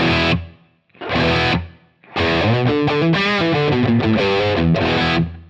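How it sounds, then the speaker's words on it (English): Distorted electric guitar chords and a riff through a Helix amp model, played with a spacious, lingering reverb tail between notes. "Let's add the reverb in."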